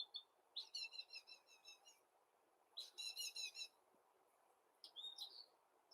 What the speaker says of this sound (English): that mockingbird has been with us for a couple years.